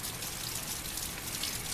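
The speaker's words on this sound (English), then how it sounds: "It's raining again," Steady rain falls outside, a dense, even hiss of drops on surfaces with no break and no voices, holding at moderate loudness throughout.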